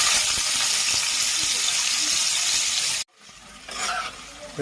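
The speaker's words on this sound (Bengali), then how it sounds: "গরম হয়েছে, কপিগুলো এবার ভাজার জন্য দেওয়া হচ্ছে।" Cauliflower pieces hitting hot oil in a pan, a loud steady hiss and crackle up close that stops abruptly, followed by a quieter, softer bubbling sizzle.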